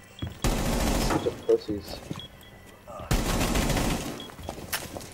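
Bursts of automatic gunfire in Rainbow Six Siege, two long rattling volleys with a quieter gap between, close and loud, while someone talks over them.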